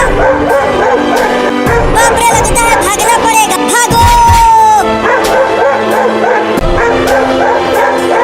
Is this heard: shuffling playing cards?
no